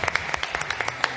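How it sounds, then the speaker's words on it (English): Scattered audience applause honours the champions of the eFootball 2025 FC Barcelona Club Finals. It is a steady patter of claps, moderately loud, carrying on evenly through the clip. "One final round of applause then."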